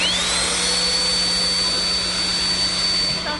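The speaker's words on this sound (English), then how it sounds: "Sounds an awful lot like a vacuum cleaner. Yeah, it is a vacuum cleaner." A vacuum cleaner motor powers a circular hovercraft, a loud constant whine with a steady hum, rising in pitch at start-up then holding level throughout.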